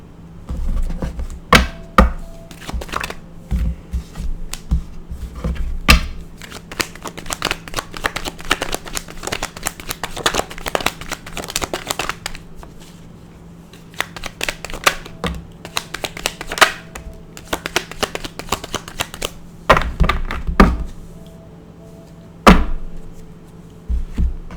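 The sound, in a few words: tarot cards being shuffled and spun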